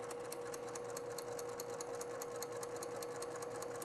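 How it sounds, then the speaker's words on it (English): A sewing machine stitches quilt fabric pieces at a steady medium pace, its rapid, even needle rhythm running continuously and close with a constant motor hum and no pauses. "I'm going to sew these at a nice medium pace."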